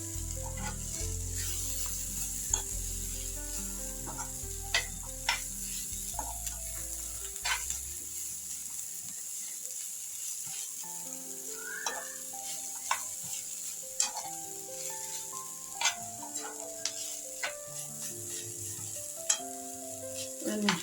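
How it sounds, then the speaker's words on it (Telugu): Beetroot fry with coconut powder and coriander sizzles in a pan while a spoon stirs and scrapes it in steady, close strokes, with no talk over it. "2 స్పూన్లు కొబ్బరి పొడి, కొత్తిమీర వేసాం. ఒక 2 నిమిషాలు ఫ్రై చేయాలి."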